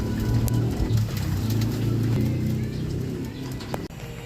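Racing pigeons coo in low, throaty rolls close by, repeating over a background of faint traffic and a few light knocks.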